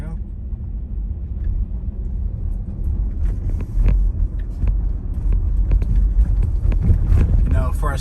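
A car on FSD beta autopilot pulls away at night, its steady engine and road rumble swelling as it accelerates, close and fairly loud with some wind buffeting on the microphone.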